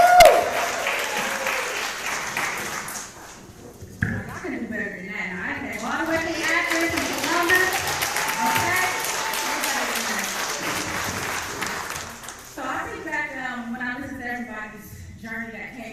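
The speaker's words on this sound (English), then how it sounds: "Give a round of applause for Miss Jessica Kay" An audience at a Cleveland tech networking mixer breaks into a round of applause, loudest at the start, then keeps clapping under a voice speaking over it.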